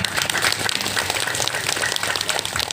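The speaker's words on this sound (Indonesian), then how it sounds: "tepuk tangan untuk beliau" A religious gathering's audience gives sustained, dense applause for a guest speaker, steady and loud from start to finish with a faint murmur beneath.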